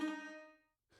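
A single dry dulcimer roll from Audiobro's Scoring Colors with the reverb switched off: one bright metallic strike that rings briefly and decays within about half a second, quiet and close.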